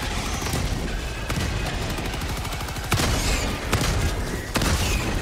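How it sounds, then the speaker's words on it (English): Rapid gunfire from the video game Helldivers 2, dense bursts of automatic shots with heavier booming hits, loud and continuous throughout with no talk. "I'm shooting all their heads off and they're still making it here."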